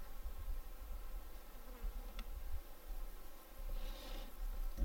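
Bees swarm around a tarp to reach rainwater trapped inside it at a bushcraft camp, giving a steady, low insect drone that rises and falls throughout, near and continuous outdoors.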